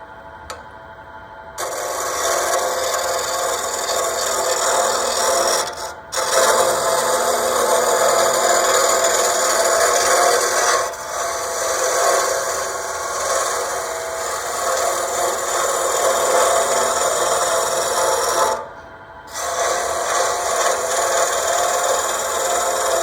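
Continuous scraping and rasping of a tool cutting a spinning pen blank on a wood lathe, loud and close, with a few brief pauses in the cutting; a bouncing sound means flat spots remain.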